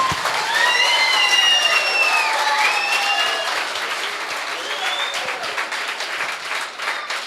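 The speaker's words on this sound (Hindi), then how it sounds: "अरे ताली बजाना था जोर से" A large audience claps loudly and steadily in a dense, continuous wash of applause that eases a little after about three seconds, with faint voices and a few whistles mixed in.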